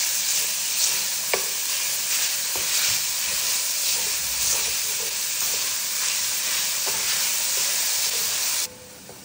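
Meat sizzles steadily in a hot pan while being stirred, a dense continuous frying hiss with occasional scraping strokes, close and loud until it cuts off abruptly near the end.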